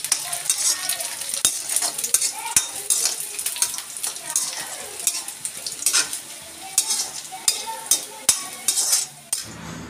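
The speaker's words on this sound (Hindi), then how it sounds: "पहले तो सब चीज़ें ऐसे छौंका लगा देती हूँ इस पर" Boiled pasta with peanuts being tempered in a pan for a desi tadka pasta: a steady oily sizzle runs throughout, broken by frequent sharp clinks and scrapes of a spoon stirring against the metal pan, close up.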